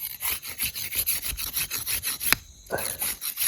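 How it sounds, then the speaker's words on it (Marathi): Rolling pin pressing out puri dough at an outdoor night campsite, giving rhythmic soft rubbing strokes close by, repeated back and forth several times a second with a short clack partway through. "पहिले पुऱ्या लाटून घेऊ"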